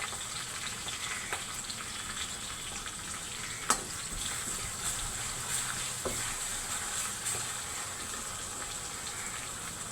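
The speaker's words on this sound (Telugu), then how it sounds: "ఇప్పుడు అల్లం వెల్లుల్లి పేస్ట్ వేస్తున్నాను." Ginger garlic paste fries in a hot pan with a soft, steady crackling sizzle, fairly quiet throughout, broken by a few brief clicks and stirring taps.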